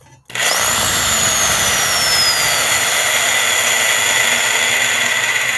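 A Harbor Freight power drill whirs loudly and steadily without pause, a continuous motor whine with a slight pitch glide, running alone in a workshop.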